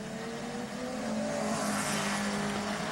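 Honda Integra race car at the Nurburgring 24 Hours, its engine a loud sustained drone holding steady and slightly rising, heard from close by as it runs.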